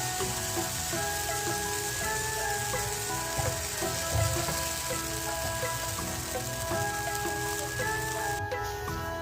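Batter sizzles in a hot pan that has been brushed with a little oil, a steady soft frying hiss continuing throughout without talk.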